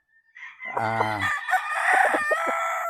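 A Boston Roundhead bullstag gamefowl rooster, about 20 months old, crows once loudly and close by, a long strained call, with a voice speaking briefly alongside.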